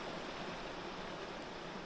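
Fast-flowing river running high, heard from a bridge as a steady, dense rushing roar of water with no other sounds.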